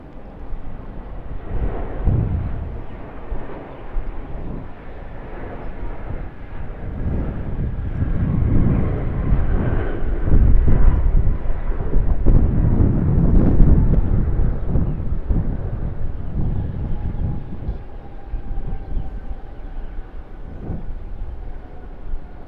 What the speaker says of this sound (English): Here it is, the Air New Zealand Airbus A321neo in from Auckland.